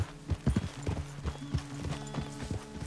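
Horse hooves clip-clop in Red Dead Redemption 2 in an uneven walking rhythm, close and fairly quiet, with a brief soft whinny-like sound among the steps.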